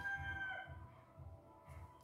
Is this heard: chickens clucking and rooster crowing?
yes